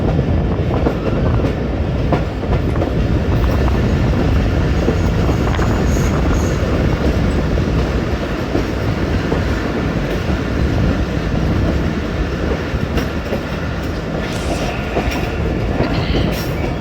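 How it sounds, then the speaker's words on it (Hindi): The Mehar Express passenger train pulls into Sher Shah Junction on the ML-2 line, a loud, steady rumble of wheels and carriages with rhythmic clatter, close by and uninterrupted, no voices. "शेर शाह जंक्शन पहुँच गई हमारी 1 to 8 डाउन महर एक्सप्रेस"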